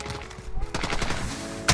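AK-47 gunfire in Modern Warfare, rapid bursts of automatic shots in quick succession, loud and close, with a final sharp shot at the end and no clear talking.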